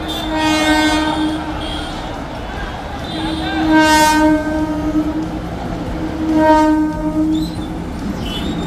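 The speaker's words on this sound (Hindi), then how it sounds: "इसलिए रफ्तार कम करता है और दूर से ही हॉर्न देना शुरू कर देता है" Several loud, drawn-out train horn blasts sound one after another over the rumble of an approaching train, with some voices underneath.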